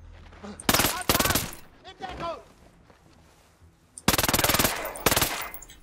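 Ghost Recon Breakpoint automatic gunfire rattles in two loud rapid bursts, the second running on until the magazine empties, with a quieter gap between them where a voice speaks.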